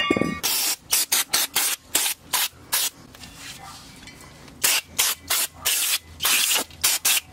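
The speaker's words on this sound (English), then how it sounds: "Brake clean me, please, sir." Brake cleaner is sprayed onto brake calipers in a long hissing burst, then in a rapid series of short, loud, close spray bursts with brief pauses between them.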